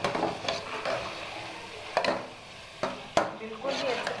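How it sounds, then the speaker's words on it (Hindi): Mashed eggplant for baingan bharta stirred in a pan, with soft scraping and a low sizzle plus a few sharp spoon knocks against the pan's rim. "अब हम इसको मिक्स करेंगे अच्छे तरीके से,"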